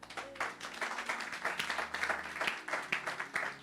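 A church congregation applauding the Lord during a sermon, a dense patter of many hands clapping with scattered louder claps, fairly close and steady throughout.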